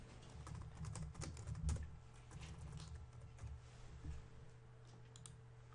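Quiet clicking of keys as a keyword search is typed on a computer keyboard, an uneven run of soft taps close by against a faint steady hum.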